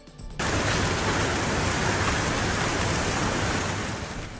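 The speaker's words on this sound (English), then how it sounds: "Baseball-sized hail smashed the windshields of nearly every car at this dealership" Baseball-sized hail pounds cars at a car dealership in Round Rock, Texas, during a severe hailstorm: a loud, dense, unbroken roar of impacts that starts abruptly and fills the whole stretch, easing only slightly near the end.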